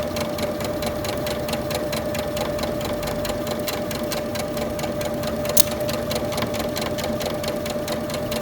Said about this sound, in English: lock your stitch into place, and then go ahead and sew this baby down